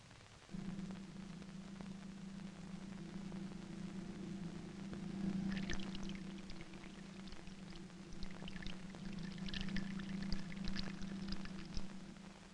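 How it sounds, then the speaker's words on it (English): Simulated rain pours steadily onto side-by-side plots of bare and vegetated soil, a continuous wash of falling water with a low hum beneath and scattered brighter splashes, moderately loud and without any voices. "Equal amounts of water fall on both sections of land for the same length of time."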